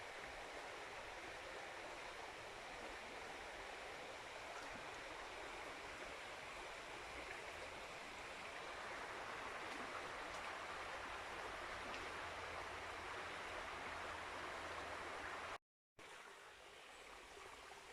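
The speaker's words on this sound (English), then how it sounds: "you can see this beautiful little stream, and it comes all the way down" A small river stream flows with a steady, close, broadband rush of water, continuous throughout apart from a brief cut near the end, with no voices.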